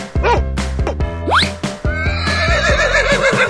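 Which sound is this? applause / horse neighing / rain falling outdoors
horse neighing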